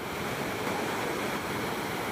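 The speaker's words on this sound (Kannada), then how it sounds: "ಗೇಟ್ ಓಪನ್ ಮಾಡಿ ನೀರು ಪೋಲಾಗಿದೆ." Water from an opened gate at the KRS dam rushing out in a steady, dense roar, loud and continuous throughout with no voices.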